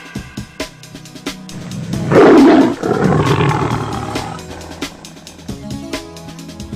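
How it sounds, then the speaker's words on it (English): A lion gives one loud, deep roar lasting about two seconds, followed by a rumbling tail-off over a steady rhythmic backing beat. "L for lion. L for lion."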